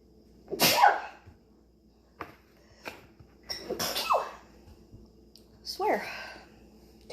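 Sneezes set off by Tony Chachere's Cajun seasoning while cooking, several sharp bursts close to the mic, separated by quiet pauses.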